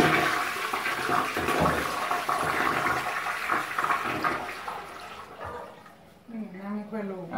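A clogged toilet is flushed, loud rushing and swirling water that drains sluggishly and fades, after which people talk nearby.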